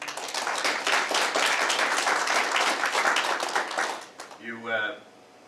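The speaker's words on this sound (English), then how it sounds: "so a big round of applause for everyone" A crowd at a bus service ceremony applauds in a dense, steady burst for about four seconds, then the clapping fades out as a voice starts speaking.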